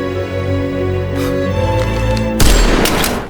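A single sharp gunshot cracks loudly after a sustained tonal hum, followed by a short noisy echo.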